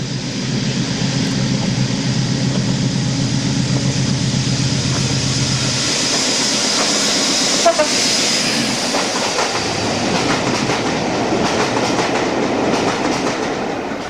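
Diesel locomotive 56006 passing between tunnels, a loud sustained engine roar with rhythmic wheel clatter, shifting in tone midway as it passes close by.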